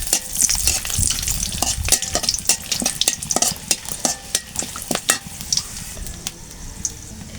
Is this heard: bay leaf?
yes